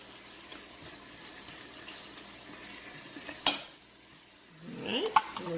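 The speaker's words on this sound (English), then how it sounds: "So I'm going to put in the whole can of tomato paste." Tomato paste goes into a meat sauce for authentic Italian pasta, followed by a sharp clink and a rising sizzle with scraping and stirring from a pot near the end, over a quiet kitchen background.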